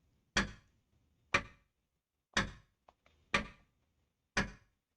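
Five sharp, evenly spaced clicks about a second apart, each ringing briefly, from a household clock ticking in a quiet room, with one faint extra tap between beats.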